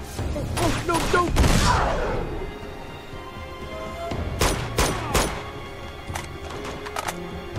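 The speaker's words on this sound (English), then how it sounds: "Who is shooting those grenades?" Grenades and guns go off in Uncharted 2 at a monastery, a heavy blast early followed by scattered gunshots and short automatic bursts, loud and close, with voices talking during the firefight.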